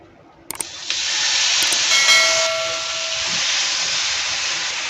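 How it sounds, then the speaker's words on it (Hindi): Chicken tikka pieces laid on an oil-greased grill pan, setting off a loud, steady hissing sizzle after a couple of sharp clatters, the hiss holding strong and even to the end. "अच्छी तरह से ग्रीस करने के बाद हम इसमें अपने टिक्के रख देंगे"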